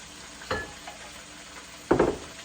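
Meat frying in a pan for a kale lunch, with a quiet background sizzle and two sharp stirring scrapes, one near the start and a louder one near the end.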